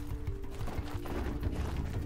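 Horse hooves clop on the ground in the Horizon Zero Dawn video game, a quick uneven run of soft thuds under a low hum, with no talk.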